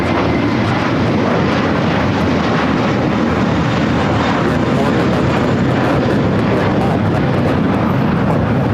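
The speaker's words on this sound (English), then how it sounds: "Next takeoff already happening, American A321." An American Airlines A321 takes off at LAX, heard from the southeast corner of Tom Bradley International as a loud, continuous jet roar filling the whole stretch without easing.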